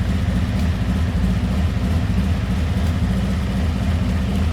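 A motorcycle engine idles steadily and a little low in the cold, its dense, continuous rumble close and loud with no pauses.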